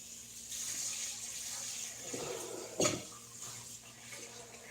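Running tap water rinses a butterflied leg of lamb in a sink, a steady close hiss of the stream with a brief splash and knock as the meat is handled, no voices.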